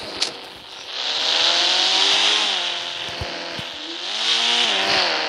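In a racing video game, a car's engine whines and revs steadily with shifting pitch as it rolls down a mega ramp, with a few soft clunks along the way, clear and prominent with no talking.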